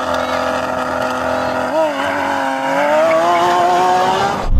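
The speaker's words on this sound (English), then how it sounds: "I'm now going to win this race and humiliate Yanni." A Tesla races at speed with a rising whine and tires squealing, loud and close, and the pitch climbs steadily as the car accelerates.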